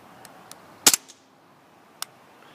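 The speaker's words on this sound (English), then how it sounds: "Give you a shot of it firing." An HK3 Glock 17 airsoft pistol fires a single sharp, close snap followed by a quick rattle of the slide, with a fainter click about a second later in a quiet room.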